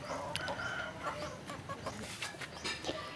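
Chickens clucking and calling near the mic as they feed on corn bran, with busy overlapping fowl sounds throughout and no talking.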